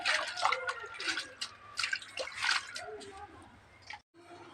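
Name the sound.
washing saag greens in water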